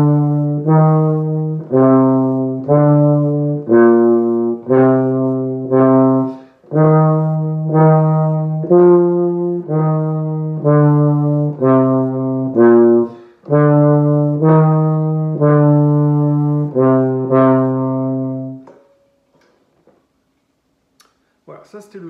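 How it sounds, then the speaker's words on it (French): A solo tuba plays a slow sequence of deep, sustained, rich notes with brief gaps between them, loud and close, ending in silence after about nineteen seconds. "Voilà, ça c'était le son du tuba."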